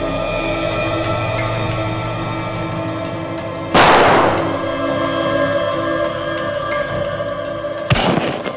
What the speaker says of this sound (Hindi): गोलियां तो चली है